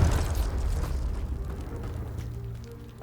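A Confringo fire spell explodes in Hogwarts Legacy with a loud, close burst that booms and rumbles, then rolls into a fading low roar over a few seconds.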